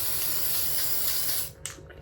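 Aerosol can of edible gold food colouring spray hissing in one long, close, steady burst before cutting off, followed by a couple of faint shorter puffs.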